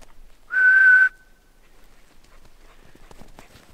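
A single clear sustained whistle from a person in the woods, steady in pitch and lasting about half a second, followed by faint rustling and soft footstep-like sounds in a quiet outdoor setting.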